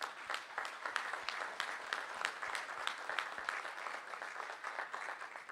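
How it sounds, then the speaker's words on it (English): An audience at a book launch evening gives a round of applause, a steady wash of many hands clapping, moderately distant and fairly quiet, with no talking over it. "ladies and gentlemen, let's a round of applause for John Campbell tonight"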